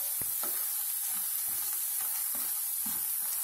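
Roasted gram (pottukadalai) stirred in a frying pan for chicken kola urundai, a soft continuous sizzle with light repeated scraping strokes of a spoon at an even pace, near and moderately quiet, with no voices.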